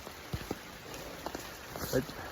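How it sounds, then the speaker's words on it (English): Steady rain on the Appalachian Trail hisses over everything, with scattered close drips and patters, and a faint voice murmurs briefly beneath it. "Raining again today."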